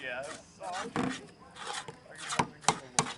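A camping knife cuts open a can of peaches, with rough scraping strokes building into several sharp, close cutting bursts near the end.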